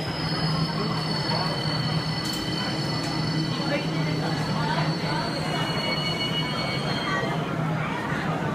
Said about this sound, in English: The train is arriving.